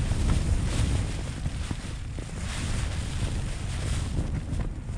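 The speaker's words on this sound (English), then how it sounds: "it is rattling the tent quite a lot" Strong wind buffets a tent pitched for wild camping in 40mph+ wind and rain, a loud, close, constant roar and flutter of fabric with gusting surges and no voices.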